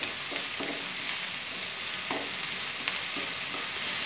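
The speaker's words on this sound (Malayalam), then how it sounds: "ഒന്ന് ഇളക്കി കൊടുക്കണം." Egg thoran mixture frying over a raised flame, with a loud continuous sizzle and a few soft stirring scrapes in the pan, close up.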